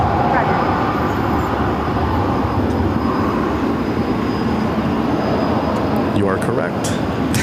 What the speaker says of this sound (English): Next arrival on runway 8. Looks like a Southwest 737.